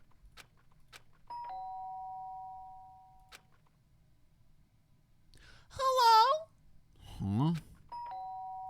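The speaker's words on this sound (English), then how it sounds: "The sharp sound of the doorbell pierced my sleepy haze and pulled me back to the real world." In the Danganronpa video game, a doorbell chimes two sustained tones early on and again at the end, with a person's sighing, drowsy murmur heard between the rings in a quiet room.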